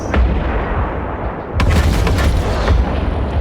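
Weapons fire in the EVE Online space game, a dense rumbling barrage of booming shots and bursts that rolls on continuously, loud and close, with sharper impacts after a brief lull.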